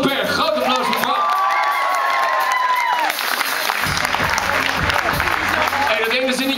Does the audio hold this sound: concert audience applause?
yes